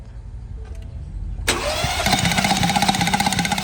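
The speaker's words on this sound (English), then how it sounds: "So right now my coworker is gonna crank the engine." A Ford F150 engine cranks during a compression test: quiet low rumble at first, then a sudden loud onset of fast, rhythmic cranking with a whirring starter, close and steady to the end.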